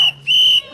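Two sharp, shrill whistle blasts from a crowd alerting people to ICE agents, a short one followed by a longer one, loud and close.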